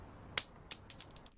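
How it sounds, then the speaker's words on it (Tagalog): A small coin is tossed and lands, giving a bright metallic clink followed by several quicker, fainter bounces and rattles that die away within about a second. "At dito ay nakita niya ang maliit na multo. Nakyutan siya rito. At hinagisan niya ito ng barya papunta sa kinaroroonan nito."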